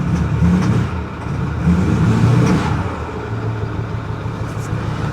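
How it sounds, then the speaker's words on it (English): A diesel Ford F250 Super Duty with a check engine light lit revs up twice, the engine note rising and falling loud and close, then settling back to a steady idle rumble. "Let's give her a little rev"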